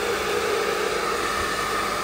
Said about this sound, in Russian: Ждут включения фена и тоже сушатся.